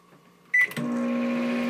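Microwave oven being set to cook a potato: a quiet button tap, a short bright beep, then the oven starts with a steady hum and whir that continues close and even.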